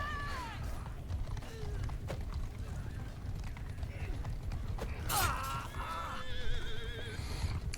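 Horses neighing during a cavalry fight in the video game Mount & Blade 2: Bannerlord, with several whinnies over a busy battle din of hooves, clatter and creaks.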